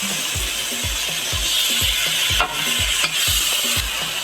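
Sauce simmers with steak in a pan as a steady close sizzle and bubbling, with regular low scraping strokes, probably stirring, repeating roughly every half second.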